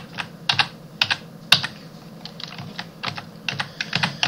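Fingers type on a computer keyboard during a Minecraft session, sending out close, crisp key clicks in short irregular bursts with brief pauses between them, and no speech over them.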